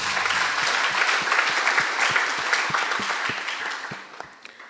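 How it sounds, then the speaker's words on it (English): Audience at a school debate between Kahuhia Girls High School and Light Academy breaking into steady applause, many hands clapping close and loud, with a few strong individual claps standing out before it fades slightly at the end. "Please give them a round of applause."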